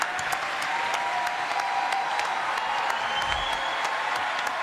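Applause for quiz winners during a cartoon-themed panel show, a continuous wash of clapping at steady loudness with a faint sustained tone running underneath.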